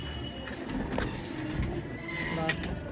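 Pigeons on a rooftop in Amritsar coo softly in low, repeated murmurs, with light flutters and rustles nearby and a faint bleat-like call mixed in, no talking.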